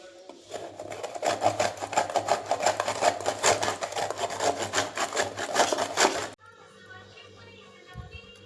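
Coconut is grated by hand for a tribal Makar Sankranti dish, making a rapid rhythmic rasping scrape for about six seconds that then stops.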